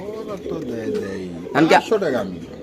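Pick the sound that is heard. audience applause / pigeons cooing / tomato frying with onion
pigeons cooing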